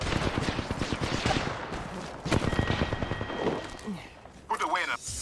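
Rapid gunfire from an Apex Legends match, with bursts of shots cracking in quick succession and a louder sniper-like report, under a player's excited talk.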